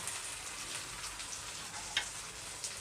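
Idli-batter handvo batter frying gently in a pan over low gas, a soft continuous sizzle with faint crackles, close and quiet, no voices.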